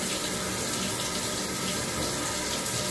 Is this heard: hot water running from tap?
yes